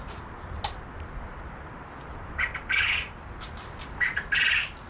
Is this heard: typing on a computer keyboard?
no